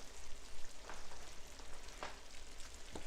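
Ingredients are stirred into a pork mixture for egg rolls, with a soft, continuous sizzling and scraping texture and a few faint clicks of the utensil, with no voices.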